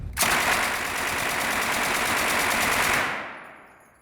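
An Uzi submachine gun fired at a Las Vegas shooting range, one loud, close, continuous burst of rapid shots lasting about three seconds before cutting off and fading.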